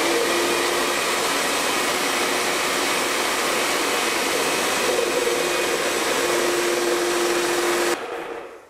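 A low-pressure airless paint sprayer pump, set up for painting walls, starts at slow speed and runs as a steady, close, whirring motor drone with a faint tone, then cuts off abruptly near the end.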